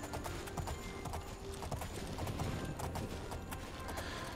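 Horse hooves clip-clopping at a slow pace through a swampy area in a fantasy role-playing video game, a steady close rhythm of hoof clops over a dense, busy game soundscape.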